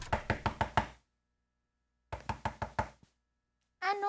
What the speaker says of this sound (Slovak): Počkaj, to zaklopem.